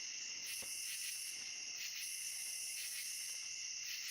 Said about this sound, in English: here's something I can't tell what it is because of these crickets and katydids